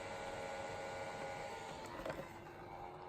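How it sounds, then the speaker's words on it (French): The cooling fan of an Efan Lux S4 touch-screen LCD charger runs with a steady, faint whirring hum that holds evenly throughout, with a small click partway through. "voilà ce que ça donne une fois que le ventilateur se met en route"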